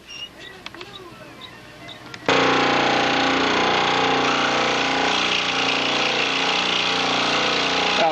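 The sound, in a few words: saw cutting a wingtip piece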